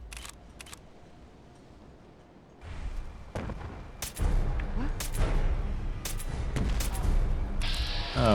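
Gunfire in Fallout 4 aimed at gulpers: quiet opening, then sharp shots around three and four seconds and repeated loud reports with rumbling impacts through the back half of the fight.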